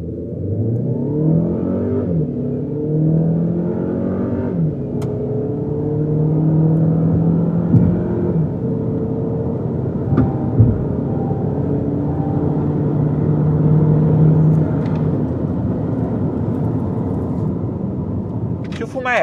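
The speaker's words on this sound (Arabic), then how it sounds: "خلوني أفاجئكم تجربة تسارع من 0 إلى 100." A 2024 Jetour T2 SUV accelerating hard from 0 to 100 km/h, its engine note rising and shifting through gears in a steady climbing drone, heard from inside the cabin with a voice speaking over it.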